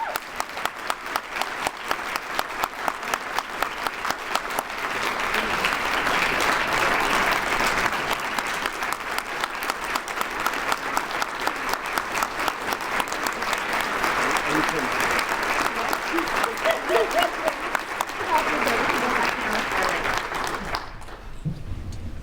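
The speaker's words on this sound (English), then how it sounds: "Can we give her a round of applause?" Sustained, dense applause from a luncheon audience at a chamber of commerce community event, steady and fairly loud for about twenty seconds before cutting off abruptly.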